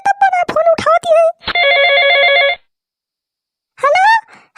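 A telephone rings with one trilling electronic burst lasting about a second, set between stretches of animated talk in a rural home.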